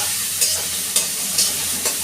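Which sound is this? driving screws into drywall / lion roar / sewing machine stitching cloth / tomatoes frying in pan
tomatoes frying in pan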